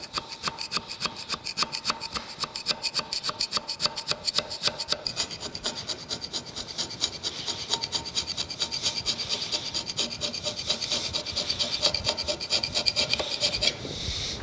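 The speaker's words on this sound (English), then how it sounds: "I'm resorting to some hand scraping here to get right up in that corner" Hand scraping a corner of a cast-iron metal planer saddle, a rhythmic series of rapid, raspy strokes repeating steadily and closely for the whole stretch, with no talking.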